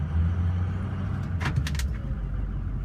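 A 2005 Ford F350 pickup sits running as it is shifted into drive, a brief mechanical clunk and rattle from the gearshift rising over a steady low engine hum.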